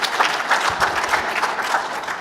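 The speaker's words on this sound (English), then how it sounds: "Let's give them a big round of applause." A conference audience applauds as a panel comes onto the stage, dense steady clapping from a sizeable crowd that carries on evenly without a break.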